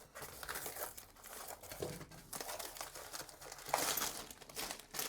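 A tightly wrapped packet of silver parts is unwrapped by hand, giving close, continuous crinkling and crumpling with a few louder tearing rustles, heard alone without talk.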